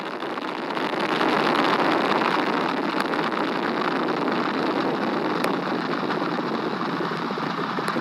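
Broad, sustained roar of the Artemis I rocket lifting off on four RS-25 core-stage engines and two solid rocket boosters, a dense rumbling blast that holds steady and loud throughout with wind-buffeted crackle.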